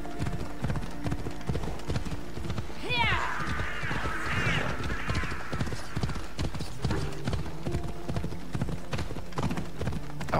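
Steady clip-clop of horse hooves trotting at an even rhythm in the video game Assassin's Creed Odyssey, close and continuous, with a brief high animal call partway through.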